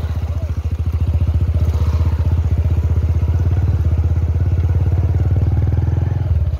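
A motorcycle engine runs while a learner rides, producing a loud, close, evenly pulsing putter that holds steady for several seconds before easing off slightly near the end, with no talking.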